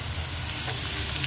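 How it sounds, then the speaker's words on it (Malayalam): Three onions frying in a hot pan, giving a steady, close sizzle and hiss throughout a brief moment with no talking. "ഒരു 3 സവാളയാണ് ഇട്ടത്"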